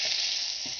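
Battered fish frying in hot melted butter gives a steady, close sizzle throughout, with a faint soft bump near the end.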